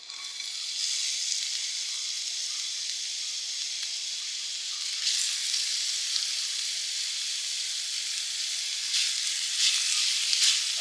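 Hot oil sizzles and hisses steadily in a pan while chicken biryani is being cooked, the frying holding at an even level with a few brief louder surges.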